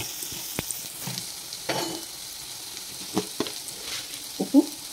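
Turmeric and ginger-garlic paste frying in a pan for a masala, a soft steady sizzle with a few sharp clinks and scrapes of a spoon stirring, close and moderately quiet, with no talking.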